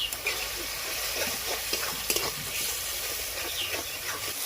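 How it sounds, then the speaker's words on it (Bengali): Water and ground cumin paste go into a pan of cabbage and egg curry, giving a steady, moderately loud sizzle and hiss with a few soft stirring scrapes throughout. "আর একটু জল দিব আর দিয়ে দেবো জিরা বাটা"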